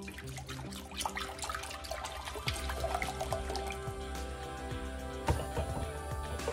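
Organic goat's milk is poured into a large, very full pot, giving a faint, steady liquid trickle and splash with a few light clinks, and no voices heard.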